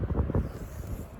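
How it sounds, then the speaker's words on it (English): Wind buffets an outdoor microphone in low, rumbling gusts, loud and continuous for about a second with no voices. "it's quite windy"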